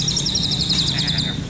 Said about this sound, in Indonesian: Tuh, burungnya tuh. Murai batu ya?